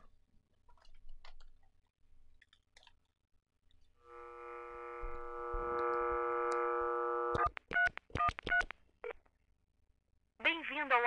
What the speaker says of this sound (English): All right, let's dial that auto attendant.